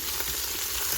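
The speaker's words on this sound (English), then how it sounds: "let's go ahead and give this a stir" Oxtails searing in a pan, a steady close sizzle and hiss with faint stirring movement, brief and with no voices.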